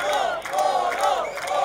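Concert crowd roaring and chanting in unison for a departing bass player at his final show, a dense loud wall of cheering voices with a rising and falling chant.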